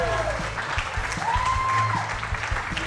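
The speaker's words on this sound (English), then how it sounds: "How about a round of applause there?" Applause from a studio audience at a live football clubhouse show, a moderate round of clapping with some talk and a tonal sweep over it, steady throughout.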